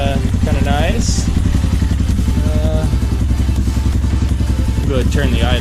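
A Yamaha TT250 motorcycle with a newly installed Mikuni carburetor idles loud and close in a steady, even thump that runs throughout, while a voice speaks over it.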